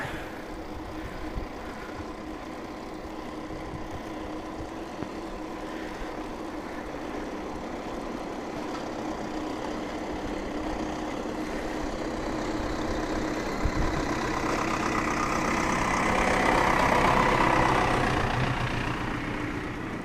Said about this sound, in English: Tractor up here loading up.